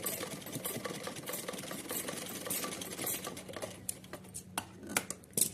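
A sewing machine runs a short stitched seam across a folded tuck in silk fabric for a small deity outfit, a fast steady whir with sharp ticking bursts near the end.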